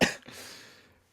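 A person gives a single harsh cough up close, then a short breathy rasp fades out into quiet.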